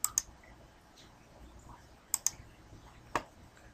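Sharp, close mouse clicks while editing a Google Sites classroom website: a quick double click, then another pair and a single click, separated by quiet pauses.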